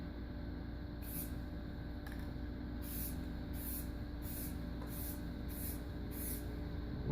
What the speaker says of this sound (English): Test that off to the side. Yep, that works. Spraying right.